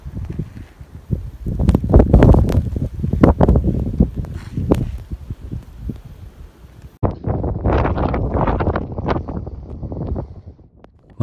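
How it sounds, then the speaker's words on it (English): Strong wind buffets the microphone during a heavy snowstorm in Hokkaido, roaring in loud, uneven gusts and rumbles with brief lulls and no voices. "Strong winds are also blowing."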